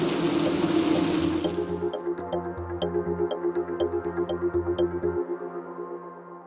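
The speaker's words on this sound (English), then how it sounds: "rain pours into the shattered opening" Heavy rain pours into a shattered opening in a sci-fi action scene: a loud, dense rushing wash for about two seconds that then drops back beneath pulsing, rhythmic music.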